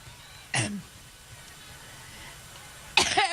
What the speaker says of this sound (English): yet another coughing fit